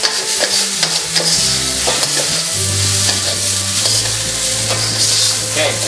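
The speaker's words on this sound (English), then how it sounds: "just scraping those little burnt bits off the bottom, because they have a lot of flavor" Fried rice stir-frying in a pan, a steady sizzle with repeated scraping and stirring strokes of a utensil against the pan bottom, close and fairly loud, with no talking.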